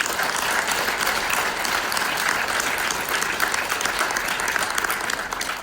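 A chapel congregation at Caron breaks into steady, dense applause that fills the room evenly from start to finish, with no voices rising above it.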